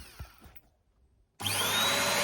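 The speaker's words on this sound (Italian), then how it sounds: "è piccolino sto aspirapolvere, però a me è più che sufficiente" After a few faint clicks and a short silence, a small vacuum cleaner switches on abruptly and runs close by with a loud, steady, high-pitched whirring roar.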